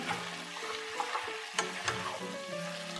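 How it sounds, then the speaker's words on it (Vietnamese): Squid and vegetables are stir-fried in sweet-and-sour sauce in a pan, giving a loud continuous sizzle broken by the scrape and clack of the utensil tossing the pieces. "Mình đảo mực cho mực nó thấm đều nước sốt ha"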